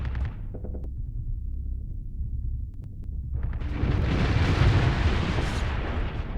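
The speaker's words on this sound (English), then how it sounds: "Fortress shielded the torpedoes" Torpedoes striking a fortress shield in the Starsector space combat game: a deep rumbling boom fades to a low hum, then a second harsh, roaring burst of impact noise erupts and holds loud to the end.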